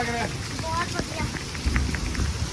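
Heavy rain pours down steadily in a broadband wash, with a brief whistled or sung tone early on and scattered voices faintly in the background.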